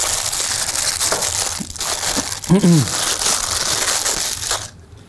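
Packaging crinkles and crunches while a Fotodiox Pro autofocus 2x teleconverter for Canon EF/EF-S is unboxed, a steady close rustle with a short voice near the middle and a quieter ending.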